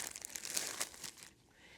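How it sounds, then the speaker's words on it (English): Plastic zipper bag holding a salt-cured pork belly being folded over and sealed, close crinkling and rustling in quick bursts that stop abruptly, with no talk. "Now fold the bag over and seal the zipper."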